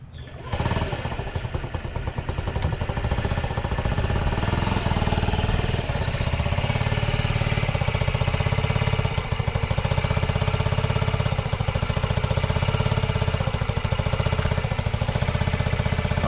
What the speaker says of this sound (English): you're ready to start the bike